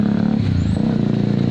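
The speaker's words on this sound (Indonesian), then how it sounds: "Ada motor lewat." A motorcycle drives past on a nearby road during a coconut bonsai outing, a steady engine drone holding for over a second with a slight pitch shift as it goes by.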